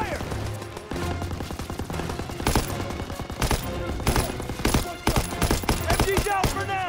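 Machine gun suppressive fire in the World War II shooter Call of Duty WWII, with rapid dense bursts of automatic fire and explosive cracks filling the clip, mixed with in-game shouting.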